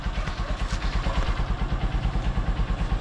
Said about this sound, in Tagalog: napaandar na natin mga idol yung Honda Supremo natin